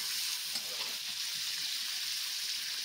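Paneer pieces fry in hot oil, a steady, bright hiss and crackle of sizzling close by, unbroken throughout with no talking.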